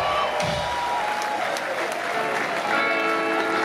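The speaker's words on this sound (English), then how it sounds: "give yourselves a round of applause right now" Concert crowd applauding at a live punk show, a dense steady wash of clapping with some cheering, loud and close throughout.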